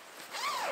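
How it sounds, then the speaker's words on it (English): A double zipper on a Naturehike ultralight compact sleeping bag is drawn open in one smooth, continuous pull lasting under a second, close and fairly quiet, with no talking. "So let's check out the zipper."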